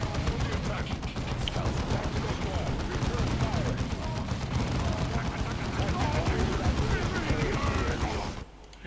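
Dense, continuous gunfire and explosions from the video game Dawn of War II roar without pause, a loud wall of shooting that cuts off abruptly at the end.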